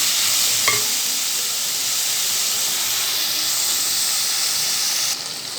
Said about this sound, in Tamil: சேர்த்திட்டு இதெல்லாம் நல்லா வதங்கி வரட்டும் ஒரு 5 நிமிஷம்.